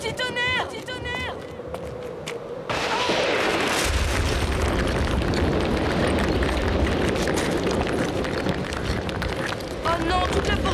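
Lightning strike and thunder in an animated cartoon set in a stone forest: a sudden loud crack erupts into a sustained roaring rumble, with a character's voice heard before and after.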